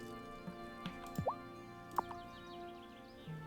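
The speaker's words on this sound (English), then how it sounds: "Then I'm gonna water the plants." Watering plants in the farming video game Wylde Flowers, a few scattered soft drips and plops of water over quiet background music, with no talk.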